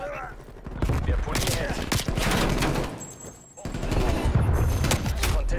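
Rapid gunfire bursts from a competitive team shooter match at a hardpoint objective, loud and close, with several volleys, a short lull near the middle, then more firing under players' voices.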